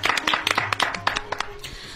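Audience clapping to welcome a poet at an Eid program, a small group's quick, uneven claps close by, lasting a couple of seconds with speech around it.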